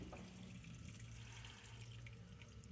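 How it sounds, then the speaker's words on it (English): A washing machine fills with water for a colors load, a faint steady rush of running water with a low hum underneath, no talking. "Now the water's filling up."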